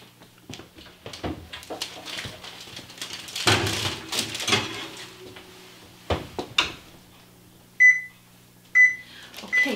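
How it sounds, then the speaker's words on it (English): A kitchen oven has its timer set for 30 minutes while bread dough rises inside. Handling clatter and door-like bumps come first, then a few short electronic beeps near the end. "I'm going to put mine in the oven with the light on only, of course, and put and set the timer to 30 minutes."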